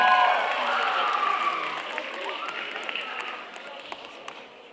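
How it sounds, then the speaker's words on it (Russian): A cosplay show crowd applauds and cheers, a broad wash of clapping and voices that starts loud and gradually fades over several seconds. "Аплодисменты!"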